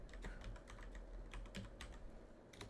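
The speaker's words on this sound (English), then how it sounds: "Typing hard there." Someone types fast on a computer keyboard, a close, continuous run of quick key clicks with no talking.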